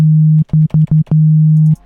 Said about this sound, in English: today we're just going to be working down here with the sine wave